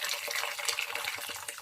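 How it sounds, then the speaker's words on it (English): Boiled water from a kettle pours into a pot of Nigerian jollof rice as a steady, bright splashing stream, close up and continuous with no voices. "I'm going to add boiled water from the kettle."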